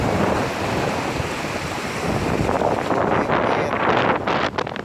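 During typhoon Goring, sea waves roar steadily against the shore while strong wind buffets the microphone, making a loud, continuous wash of noise with no clear breaks.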